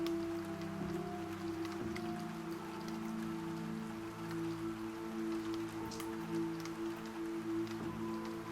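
Rain patters steadily on window glass, a soft, even tapping that continues throughout beside a faint steady hum, close and quiet with no voices.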